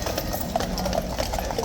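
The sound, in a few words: horses' hooves clip-clopping at Horse Guards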